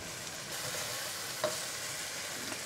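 Tomatoes softening and breaking down in a pan for a creamy garlic shrimp and bacon pasta give a steady, fairly quiet sizzle, with one brief clink near the middle and no talking.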